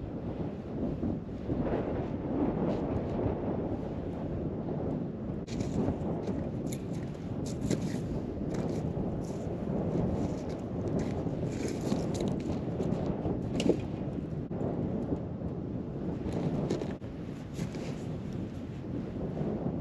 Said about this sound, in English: You can probably hear that it's getting pretty windy out.